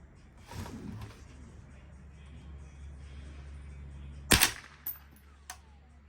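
A suppressed PTR 91 rifle fires one subsonic round, a single sharp muffled report with the action cycling, followed by a couple of fainter metallic clinks, over a steady low background hum.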